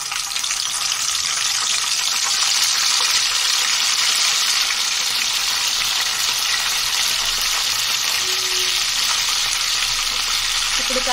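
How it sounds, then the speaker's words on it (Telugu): Curry leaves sizzle and crackle loudly in hot tempering oil for a taro root tamarind stew, a steady broad hiss that holds throughout with no talking over it. "అలా కొంచెం కరివేపాకు కూడా యాడ్ చేసుకుందాం"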